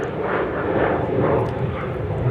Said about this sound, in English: I think this is flight 1728 going to Chicago O'Hare 737-800